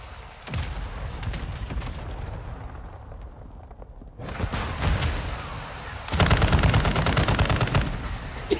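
Gunfire in a Call of Duty match, with bursts of rapid shots that come and go, quieter spells between them and a loud, dense stretch of automatic fire near the end.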